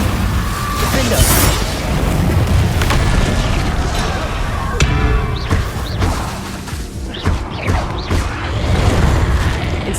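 Spell blasts from Confringo and Incendio in Hogwarts Legacy burst in a rapid string of crashes, booms and whooshes over busy game background sound, some hits sharp and close, others rumbling.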